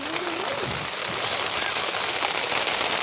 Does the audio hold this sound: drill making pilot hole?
no